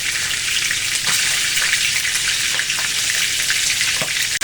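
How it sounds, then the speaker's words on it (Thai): Steamed mackerel fries in hot oil, a loud continuous sizzle with crackling pops and spatters throughout. "ปลาทูเวลาทอดเนี่ยเขาจะชอบ น้ำมันจะกระเด็น"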